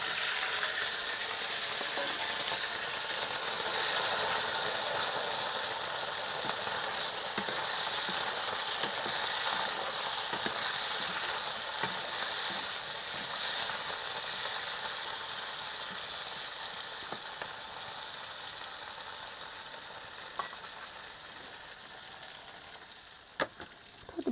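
Raw potatoes frying in a pan during village cooking in rural Nepal, a steady close sizzle with intermittent clicks and scrapes of stirring throughout, no talk.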